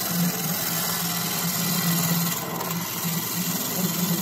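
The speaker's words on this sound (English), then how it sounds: "I'm rubbing the bevel here, nice little peel cuts here." Skew chisel making light peel cuts on a wood lathe with the bevel rubbing, a steady continuous whirring hum with a low tonal drone throughout, no talking.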